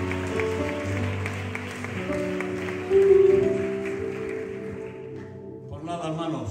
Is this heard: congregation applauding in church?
yes